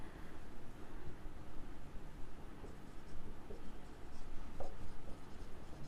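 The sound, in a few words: writing accounting entry on board or paper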